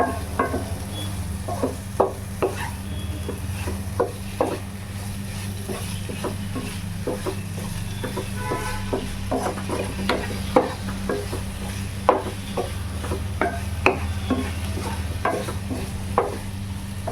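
Repeated scraping strokes of a spoon stirring a thick chicken curry in a pan, steady and close, over a low background hum.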